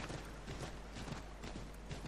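Horse hooves clip-clopping at a steady gallop in Assassin's Creed 3, a regular rhythmic beat of hoof strikes with dense game ambience underneath, fairly close and moderately loud.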